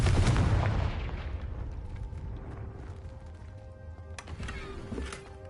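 A Confringo blasting spell goes off in Hogwarts Legacy, a loud booming explosion at the start that decays into a rumbling tail, followed by fainter impact and debris sounds.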